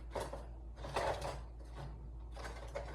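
Utensils clatter and scrape in a crammed kitchen drawer during soup cooking, in several short bursts of rattling metal close by, faint overall.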